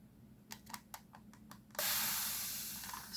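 Alcohol sprayed into a deep resin mold to free a small Buddha figurine: a few short spritzes, then a long loud continuous hiss that fades slightly.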